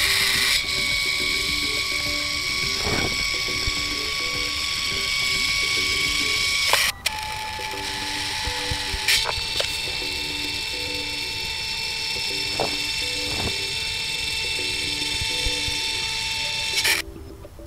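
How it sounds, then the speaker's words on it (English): A Canon Zoemini compact photo printer runs a calibration card through, giving a steady mechanical whir with faint ratcheting ticks and a few abrupt clicks as the motor changes pitch, close and continuous for most of the time with no talk. "the calibration card will calibrate our printer"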